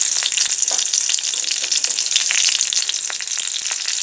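Nigella seeds and green chillies fry in hot oil with a steady, loud, close sizzle that crackles and hisses without a break and without any voices.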